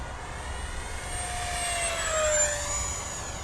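A Hobby King Flycat V2 RC electric ducted fan plane makes a high-speed pass, its whining fan rising and falling in pitch as it sweeps by and swelling slightly in loudness, heard alone outdoors.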